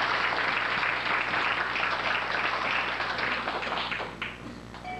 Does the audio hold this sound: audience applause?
yes